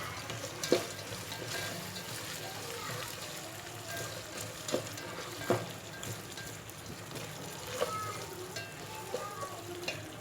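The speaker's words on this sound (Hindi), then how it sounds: "मैं तेज़ आंच पे इसे फ्राई कर रही हूँ।" Chana dal frying in a pan over high flame gives a steady crackling sizzle with occasional spoon taps and stirring, while someone talks over it.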